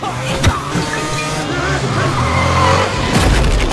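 Tires squeal and skid loudly on a motorbike ride through a building in an action film chase, with a steady engine-like roar throughout and a brief impact near the start.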